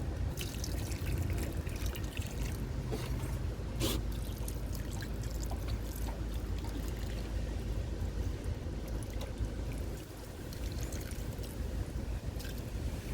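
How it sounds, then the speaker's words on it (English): Steady splashing and trickling of water poured into a container of kitchen-scrap compost, continuous and fairly close, with a brief dip in flow near the end. "put some water, soak it up."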